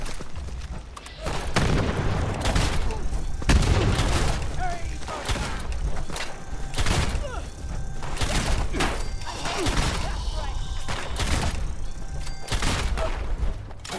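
Grenade explosions and gunfire in Fallout 76 keep up a dense, loud barrage of booms and rapid shots for several seconds, with a voice talking now and then over the fighting.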